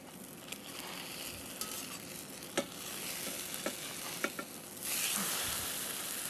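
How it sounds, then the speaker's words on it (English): A spatula scrapes around Korean rice in a non-stick pan over a constant frying sizzle, with a few soft scraping ticks and a louder hiss near the end. "I like to take my spatula all the way around just to make sure nothing is sticking"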